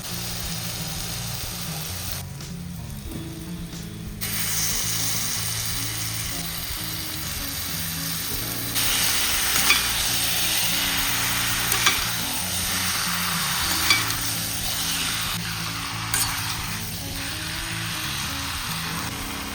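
Chicken pieces sizzle and fry in a pan with roasted spice paste, turmeric, salt and Kashmiri chili powder while being stirred steadily, a continuous close frying hiss with occasional scraping clicks, no talking.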